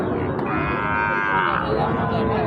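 A cow at a cattle market selling Shahiwal cattle lets out a long, strong moo close by, swelling and fading over a dense background of crowd noise.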